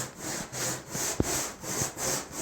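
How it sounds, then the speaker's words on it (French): A brush scrubs loosened fabric off the sagging headliner of a BMW X3 in steady, rhythmic rubbing strokes, close and fairly loud, with one sharp knock partway through. "Simplement lever le tissu et ensuite se munir d'une brosse pour brosser tout le ciel de toit."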